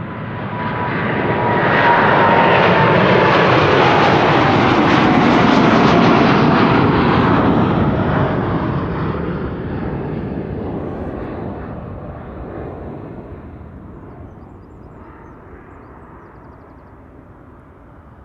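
A KLM Boeing 787-10 jet airliner at Amsterdam Schiphol roars loudly as it passes, swelling to a peak in the first seconds and then fading slowly into a receding rumble, with no talk.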